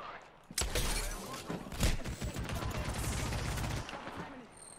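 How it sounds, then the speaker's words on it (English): Gunfire in the video game Apex Legends: a burst of shots and thuds opens, then rapid automatic fire runs steadily for about three seconds, loud and close, with game voice lines mixed in. "Hostile, danger close. Opening fire."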